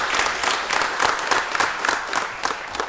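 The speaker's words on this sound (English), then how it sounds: "Let's give them a round of applause for being here today, please." At a city council meeting, a crowd applauds a group of young men with steady, close clapping that holds at an even loudness for the whole stretch.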